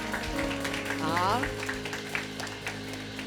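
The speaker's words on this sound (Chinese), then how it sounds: "我们热烈的掌声" A church congregation at a Sunday service applauds with moderate clapping that runs beneath a speaking voice.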